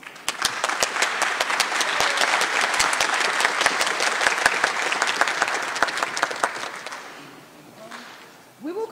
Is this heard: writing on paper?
no